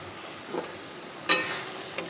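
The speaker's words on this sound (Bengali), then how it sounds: "লবণ দিয়ে একটু নেড়ে চেড়ে নিলাম" Pointed gourd curry being stirred with salt in a pan over a medium flame, a low sizzle underneath with a few clinks and scrapes from the spatula, one louder knock midway.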